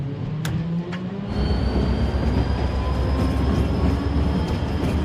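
A train runs along the rails in a film scene: a continuous heavy rumble with sustained metallic tones and faint squeals that grows louder after a short, thinner opening.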